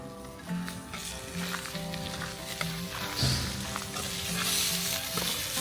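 Food sizzles and fries in a pan during camp cooking in a van, a steady crackling hiss near and moderately loud, with a faint recurring hum and occasional clinks of stirring throughout.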